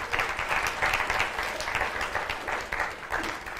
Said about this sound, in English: Ruben just graduated with his PhD, so clap for him.